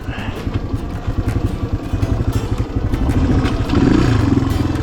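A Honda XR200 motorcycle in first gear climbing a steep dirt hill, its engine chugging in rapid pulses that grow louder and strain harder toward the end, up close.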